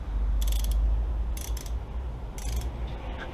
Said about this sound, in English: Banjo bolts just until it's snug.